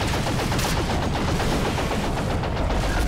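Continuous gunfire in Evolve while stasis grenades are thrown, a dense, loud, steady barrage of rapid shots with no clear pauses.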